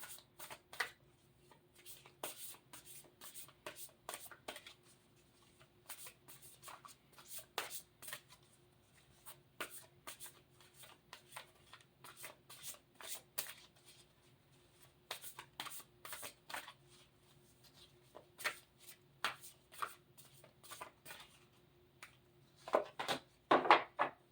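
A mediumship training card deck is shuffled by hand, producing quiet, close riffling and flicking in irregular bursts that continue on and off throughout.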